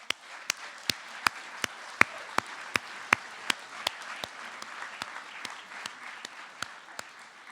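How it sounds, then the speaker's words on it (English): At a school varsity fall athletic awards assembly, the audience claps over a soft crowd murmur, with a handful of loud, sharp individual claps close by landing in a steady, regular beat about twice a second. "we need to give Tracy a round of applause, please"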